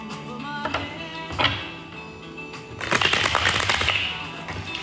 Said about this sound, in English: You got someone wanting to know why you do tarot cards, why you're shuffling there.